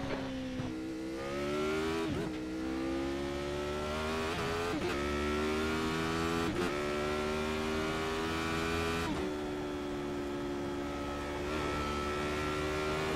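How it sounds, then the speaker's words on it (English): A race car engine in the iRacing sim drones steadily at high revs, with pitch rising gradually and a few brief gear-shift dips along the way; no talking. "Yeah, I just love the sound of this car"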